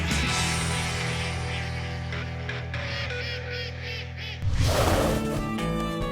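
Ducks quack during a duck hunt near Steele, North Dakota, a steady stream of nasal calls that swells suddenly into a loud, close flurry of quacking and wingbeats near the end.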